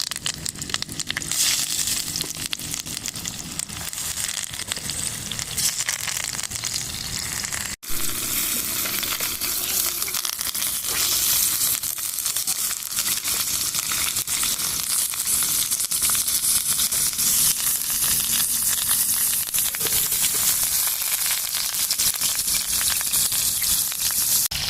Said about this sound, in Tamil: இப்போ இந்த மீனை இதில் போட்டு பொரிக்க போகிறோம்.